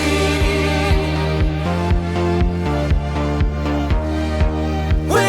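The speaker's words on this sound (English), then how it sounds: "And so I opted for this like big operatic vocal." A big, belted operatic vocal soars over a lower, subdued song breakdown, held and loud above steady pulsing bass and drum hits, with no talk.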